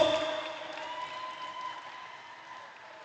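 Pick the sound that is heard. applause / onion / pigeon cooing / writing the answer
applause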